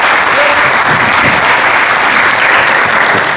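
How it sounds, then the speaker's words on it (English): A crowd applauds loudly and continuously, a dense wash of clapping with no pauses. "Please give them a round of applause."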